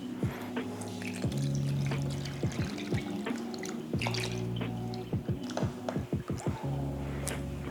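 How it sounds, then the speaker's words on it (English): Two cans of evaporated milk are poured out for homemade banana pudding, with wet drips and splashes close by. The sound rises to a quick burst of dripping near the end, and nobody speaks. "what we're gonna do is bust down 2 cans of some evaporated milk."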